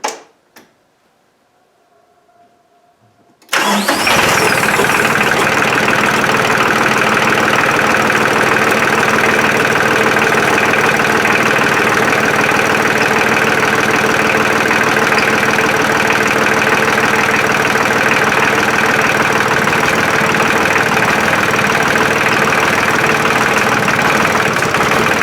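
A TC33D compact tractor diesel engine after repair work: a few seconds of near silence, then it cranks and catches and settles into a loud, steady idle that runs on without a break.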